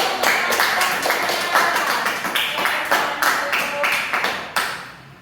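A classroom of students claps together during a teaching session, a run of quick, sharp handclaps with a loose group rhythm, close and fairly loud, ending abruptly.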